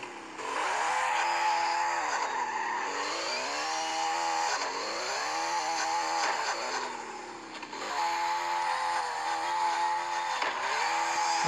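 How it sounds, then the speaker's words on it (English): EVA MR car in CarX Drift Racing with a loud engine revving and sweeping up and down, its exhaust crackling and popping on the lift-offs, continuous and close. "The pop sounds nice."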